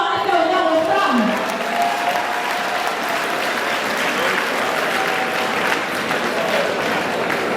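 Loud crowd applause and cheering for Madame Zouzou at a company gathering, with an announcer's voice at the start over the clapping and a continuous, dense roar of hands that carries through to the end.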